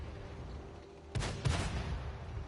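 A PT-76 light tank fires its cannon in a tank game: two close, heavy booms about a third of a second apart, each leaving a brief rumbling tail over low background noise.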